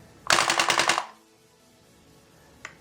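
An Uzi submachine gun fires one short full-auto burst of rapid, sharp cracks lasting under a second, loud and close, followed by quiet and a faint click.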